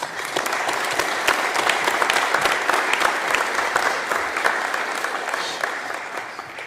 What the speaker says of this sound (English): So if we can give her one more round of applause.